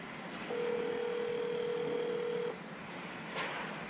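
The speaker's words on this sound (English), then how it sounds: "It's ringing." A single steady ringback tone of a phone call sounds for about two seconds over a faint hiss, followed by quiet line noise.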